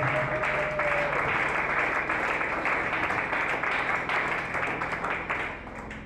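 Church congregation applauding during a Sunday service, a dense, sustained wash of clapping that holds steady for several seconds before easing slightly, with a faint held tone early on.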